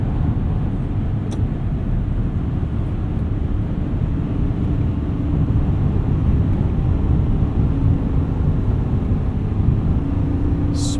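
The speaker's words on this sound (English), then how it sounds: "Smooth downshifts there with a good amount of decel in low gear, manual control." A 2025 GMC Sierra 2500HD Denali Ultimate pickup truck downshifting in low gear under manual control, heard from inside the cab as a steady, loud low engine drone with road and wind rumble and no talking.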